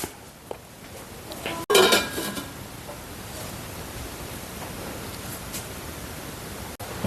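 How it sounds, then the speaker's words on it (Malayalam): A lid is set onto a cooking pot of stingray curry with coconut pieces, making one brief metallic clatter close by, followed by steady hissing background noise and no talking. "ഒന്ന് മൂടി വെക്കാം."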